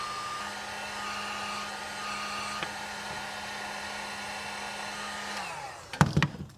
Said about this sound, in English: my heat gun only has one setting